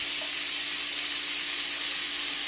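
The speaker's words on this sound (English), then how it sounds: "I just want to cook the fillets themselves." Fish fillets sizzling in a hot pan, a steady, loud hiss of frying that continues evenly throughout with no talking.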